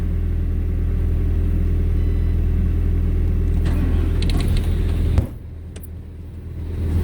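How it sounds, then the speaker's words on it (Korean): A truck engine runs at idle with a deep, steady rumble close by, then drops abruptly to a quieter, lighter hum, with no clear talking. "시동을 켜고"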